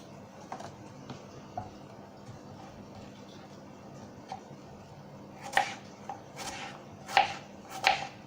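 A freshly sharpened knife chops food on a board in a kitchen, first with sparse, soft taps, then a run of louder, sharp cuts in an uneven rhythm, close by with no talk.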